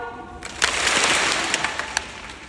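An audience at a motivational talk answers with a burst of applause that starts abruptly, swells into a dense wash of clapping with a few sharp individual claps, and holds steady to the end.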